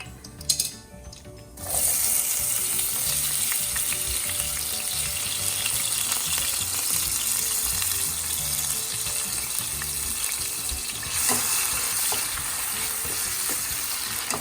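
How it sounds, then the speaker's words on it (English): Onion hits hot oil with crackling cumin seeds, bursting into a loud, steady sizzle after a brief clatter, with occasional stirring scrapes over the continuous frying hiss and no voices. "I will saute the onion until it will be brown"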